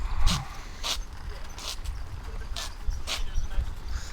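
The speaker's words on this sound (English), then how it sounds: "I hear a little dog." A small dog barks beside the C&O Canal towpath, giving a handful of short, sharp yaps at a distance, half buried under a heavy rumbling background.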